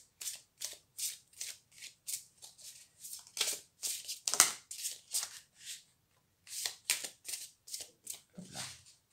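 Tarot cards being shuffled and drawn make a run of soft, crisp riffling bursts in quick rhythm, with short pauses between groups. The sound is close and quiet, with no voices.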